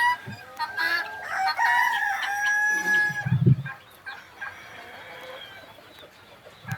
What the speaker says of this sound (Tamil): நிறைய கோழிகள் அதுக்குள்ளே இருக்குது.